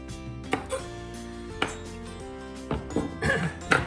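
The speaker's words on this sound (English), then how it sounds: "I'll chop up those spring onions, carrot, etc., celery." A knife chops spring onions, carrot and celery on a board, with a few spaced thuds and clinks close by over a low steady background hum.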